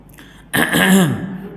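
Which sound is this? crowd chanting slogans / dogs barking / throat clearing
throat clearing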